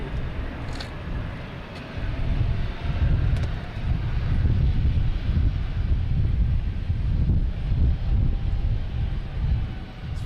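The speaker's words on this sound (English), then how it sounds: "it's clear for takeoff. Here it goes. Frontier heading to Orlando." Frontier airliner taking off for Orlando at Boston Logan Airport, heard as a steady, rumbling jet roar that swells and holds from a distance, with light wind buffeting on the microphone and no talking.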